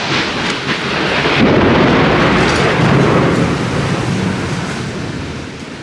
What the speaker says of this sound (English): It's definitely raining heavier